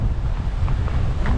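Strong wind buffets the microphone at a seaside campsite, a constant loud low rumble and roar with no pauses and no voices.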